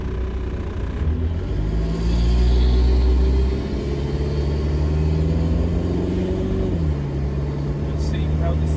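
A diesel TJ Jeep Wrangler drives along, its engine droning steadily with a low rumble, the pitch climbing and dropping as it shifts, while someone talks over it.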